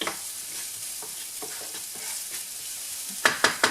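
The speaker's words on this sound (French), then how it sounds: "je vais les faire suer environ 30 secondes" Food sweating in hot oil in a pan, with a steady soft sizzle running throughout and a few sharp utensil scrapes toward the end.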